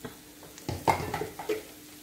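A spatula scrapes and clinks against a pan as onions are stirred and sautéed until soft, a few short scraping strokes over a faint, quiet sizzle.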